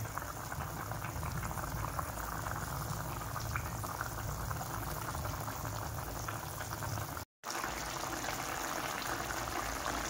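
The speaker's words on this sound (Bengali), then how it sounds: "তারপর দেখো ফুটে উঠেছে ঝোলটা" Egg curry gravy boils in a pot, a steady, close bubbling and simmering that runs throughout with one brief cut, and no talking.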